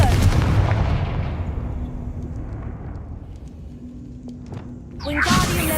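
A Confringo fire spell blast in Hogwarts Legacy bursts with a heavy, booming rumble that slowly decays over several seconds, then a second loud, crackling impact hits near the end, close and full.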